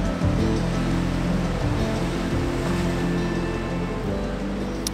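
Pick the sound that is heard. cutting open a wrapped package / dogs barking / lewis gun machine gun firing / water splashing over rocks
water splashing over rocks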